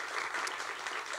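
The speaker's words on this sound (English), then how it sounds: "let's give a round of applause for Alexis" Applause from a banquet crowd honoring an awardee at a college of science and mathematics senior awards banquet, a steady dense patter of many hands held briefly at even loudness.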